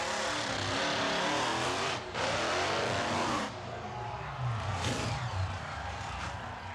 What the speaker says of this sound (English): the trucks go tearing across a stack of crushed cars